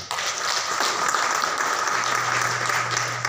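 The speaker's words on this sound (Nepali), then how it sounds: "यसको लागि पनि पुनः जोरदार ताली" Loud, sustained applause from a crowd, a dense wash of clapping that holds steady for a few seconds.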